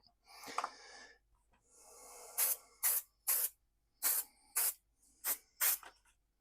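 Thick coat of spray paint going on: after a brief rustle, about seven short, loud, close aerosol hisses come in quick bursts with short pauses between them, and no one speaks.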